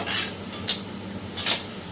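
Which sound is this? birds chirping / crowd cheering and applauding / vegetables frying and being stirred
vegetables frying and being stirred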